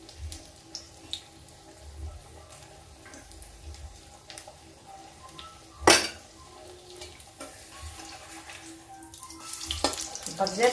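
Vegetables fry in a pan over a gas stove with a low, continuous sizzle, broken by stirring, the scrape and clatter of utensils and one sharp metallic clank.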